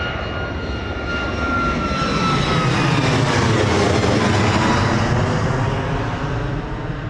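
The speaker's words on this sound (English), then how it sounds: "Another nice, beautiful D-rated takeoff there from that TUI Boeing 737." A TUI Boeing 737 takes off at Bristol Airport at sunrise, its engines a loud, sustained roar that swells and holds across the whole stretch with a faint high whine on top, no voices present.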